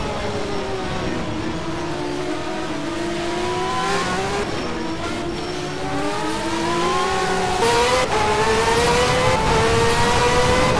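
Race car engine at Sepang circuit revving hard and climbing through successive gear changes, a continuous loud close whine rising in pitch with brief drops at each upshift, no voices over it.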